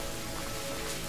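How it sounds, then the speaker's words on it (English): Steady rain falling in the video game Horizon Zero Dawn, a dense, even hiss of drops spread across the whole clip with no breaks and no voices. "Goddamn rain."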